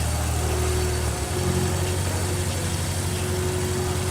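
A steady tractor engine in a farming video game idles with a low, even hum and a slight shift in pitch partway through, continuous with no voices.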